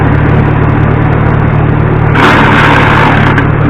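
A car engine runs after a carburetor tune-up with the choke closed, a loud steady idle hum that brightens and rises partway through as the revs climb.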